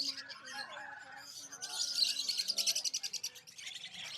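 Many small pet birds chirping and twittering together in a busy cluster at the Bocaue Pet Market bird market in the Philippines, with faint voices underneath.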